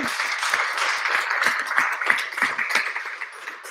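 An audience applauds a guest speaker at a regional event, a thin, fairly steady patter of claps with a few sharper hand strikes standing out, moderately close and without voices over it.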